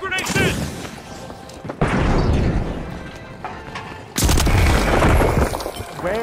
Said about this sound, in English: Goo grenades in!